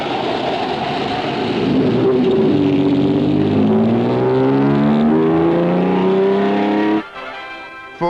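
A 1970s Lancia Fulvia 1300S rally car engine running close by, a loud sustained drone that climbs steadily in pitch as it revs up, then cuts off abruptly near the end.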